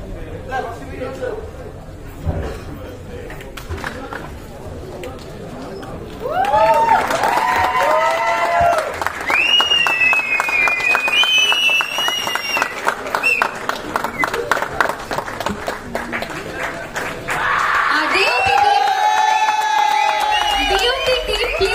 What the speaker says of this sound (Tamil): ஒரு பெரிய கைத்தட்டல் கொடுத்துறலாம்